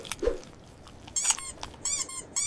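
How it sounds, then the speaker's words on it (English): Rubbery squeaks of fresh, tightly knit cheese with mint leaves rubbing against teeth as it is bitten, several short high chirps in quick bursts, close and clear with no talking. "This friction creates a loud, rubbery squeak inside your mouth"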